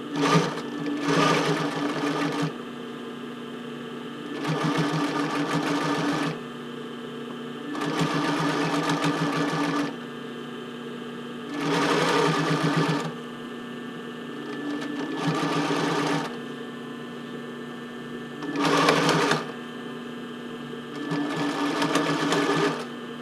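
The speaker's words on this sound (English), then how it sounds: "So now I'm going to sew again, going around." A sewing machine stitches a bra band for a Porcelynne Eve Classic Bra, whirring loudly and close in about six steady runs of a second or two, each followed by a brief lull.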